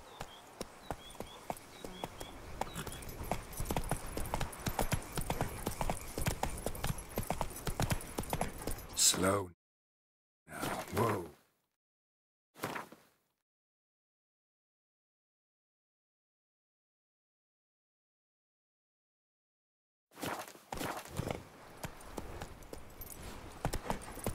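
Horse galloping in The Witcher 3, a steady rapid clip-clop of hooves under loud game sound, cutting out for several seconds with brief bursts before the hoofbeats resume.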